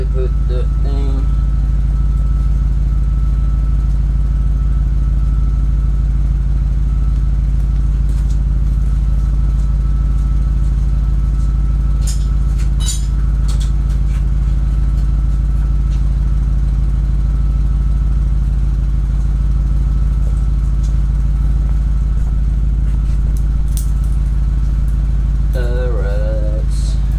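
A quad-turbo LS-swapped V8 running on its first start, a loud steady low-frequency engine drone throughout with occasional clatter, voices briefly audible near the end.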